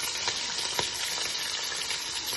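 Green chillies and onion fry with mustard seeds in a pan, giving a dense, even hiss with a couple of faint stirring taps.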